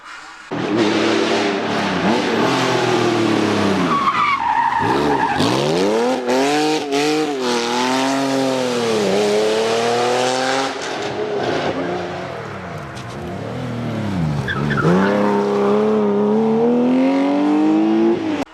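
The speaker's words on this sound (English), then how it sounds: "The pull of the flat six." A flat-six engine revs hard as the car accelerates through several gears, pitch climbing and dropping with each shift, loud and close throughout.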